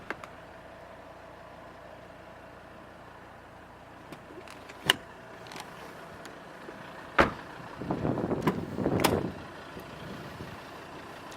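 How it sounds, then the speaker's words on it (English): Electric windows on a Volvo XC90 2.4 D5 R Design whir up and down in a couple of short motor runs near 8–9 seconds, with a few clicks and thumps from the car before, otherwise quiet cabin. "electric windows"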